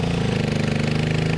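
A Suzuki DR650 adventure motorcycle engine runs steadily, a loud, close, even thumping drone held at a constant idle-like pace, alone without voices.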